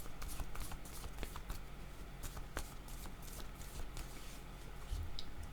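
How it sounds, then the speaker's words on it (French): Tarot cards shuffled for a reading, a close, quiet run of papery riffles and soft slaps repeating steadily throughout. "Je vais demander une carte sur le temps."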